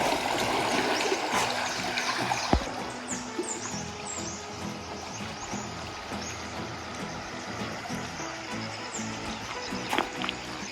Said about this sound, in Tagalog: Ito po yung ilog na dadaanan namin papunta doon sa kabilang farm namin.